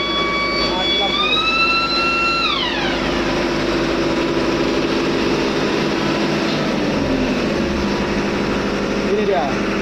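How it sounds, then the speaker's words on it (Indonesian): A ship's main engine runs in the engine room during gearbox cooler maintenance, a loud steady mechanical drone filling the space throughout, with a rising whine early on and people talking beneath it. "Ini situasi di kamar mesin kita."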